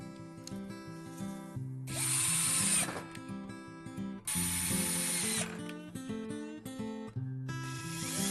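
A power drill bores holes in a hydroponics frame, its high whine coming in three sustained bursts separated by pauses, close and loud, with mechanical clicks and a musical backing running underneath.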